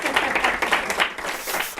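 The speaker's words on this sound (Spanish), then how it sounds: "Un aplauso, por favor" Short burst of audience applause welcoming podcast guests on stage, a steady dense wash of clapping with no voices over it.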